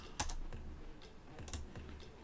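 Several separate keystrokes on a computer keyboard, spaced out and faint against a quiet background with no voices.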